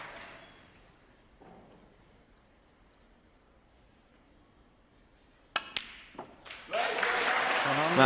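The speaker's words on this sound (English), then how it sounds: "And he is being cheered on to the rafters." A snooker crowd at the UK Championship bursts into loud applause for Ronnie O'Sullivan's 125 break. After a quiet hall and a few sharp knocks, the clapping swells suddenly and fills the last second and a half.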